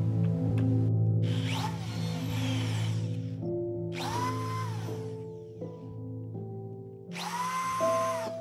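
A power drill drives screws into wood while building a life-size Enderman figure: three separate whirring bursts, each rising in pitch as the screw seats, over a low steady background hum.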